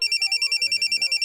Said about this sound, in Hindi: बॉस फोन बजा।